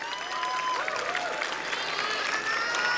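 Applause and cheering from a large crowd at a youth political rally rise as a continuous, dense wash of clapping with scattered shouts, filling the whole stretch at steady loudness.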